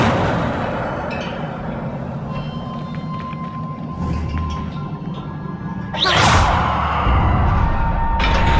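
The Incendio fire spell in Hogwarts Legacy erupts as a sudden loud whooshing blast over a low, rumbling ambience, followed a couple of seconds later by another sharp burst.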